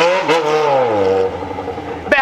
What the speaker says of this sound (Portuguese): bem que podia ter outro moto filmador aqui pra filmar o berro da minha moto